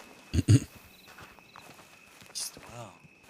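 A horse walking with a few hollow clip-clop hoof strikes, close and uneven, mixed with speech and other game-like effects.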